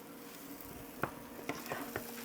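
Grilled ribs still sizzle after a high heat cook, a faint continuous crackle and hiss broken by a few sharp pops and ticks, close by with no talk.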